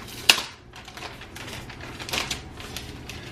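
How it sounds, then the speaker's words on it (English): An Apple iMac keyboard is unwrapped from its plastic packaging, opening with one sharp crackle followed by a scatter of softer crinkles and rustles, close and fairly quiet. "And then we'll get this keyboard unwrapped."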